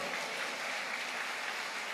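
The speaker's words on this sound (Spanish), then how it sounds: "De un aplauso a Cristo Jesús, por favor." A church congregation gives a sustained round of applause, a continuous, even wash of clapping that sounds somewhat distant and fairly soft throughout.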